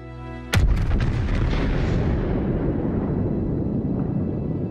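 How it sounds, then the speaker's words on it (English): A Yamato battleship's main guns fire a salvo in World of Warships: one loud, close, heavy blast that rolls into a long, rumbling boom sustained to the end, with no talk. "just fired a salvo"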